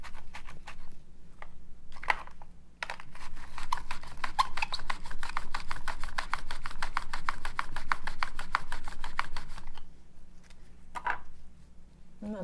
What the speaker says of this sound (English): So I just like mini peppers. And you're going to make little thin slices of this.